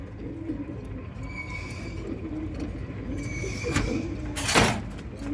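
Pigeons coo softly and steadily inside a home loft housing male and female birds, with one sharp rustling burst near the end and no talking.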